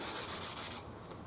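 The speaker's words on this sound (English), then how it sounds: "as I'm sanding it here" Sandpaper is rubbed by hand over the wooden body of a bass guitar, making a steady, close, rhythmic scratching stroke that repeats quickly and then fades out.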